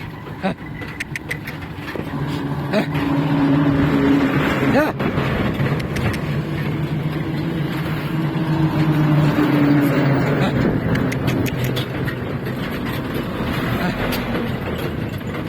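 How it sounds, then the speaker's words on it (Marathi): Trucks pass along a highway near farm fields with a continuous, loud engine rumble that swells and fades, while someone talks over the traffic. "असं ट्रक येतात"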